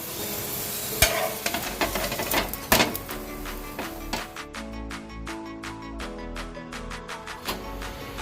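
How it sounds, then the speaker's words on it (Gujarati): A green peas paratha roasts with ghee on a pan, giving a steady close sizzle and frying hiss broken by repeated scraping and pressing taps from a spatula, with no talking. "હવે આપણે ઘી લગાવી દઈશું. બંને સાઈડેથી બરાબર શેકી લઈશું."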